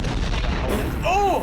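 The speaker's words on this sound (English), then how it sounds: "Predator missile inbound." A predator missile strike explodes in a video game, a sharp, heavy blast that rolls out and fades within about a second, with a faint whistling tone at the end.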